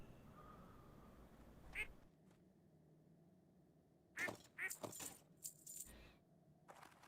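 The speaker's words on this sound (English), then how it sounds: "Did you hear that duck? That little duck pet is annoying." A small duck pet in World of Warcraft gives a handful of short, bright quacks in quick succession, fairly close and clear over a quiet game background, with no speech.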